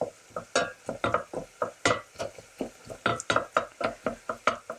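Onions cook in butter in a pan while being stirred, producing a series of rhythmic utensil scrapes and knocks over a faint sizzle, close and fairly loud.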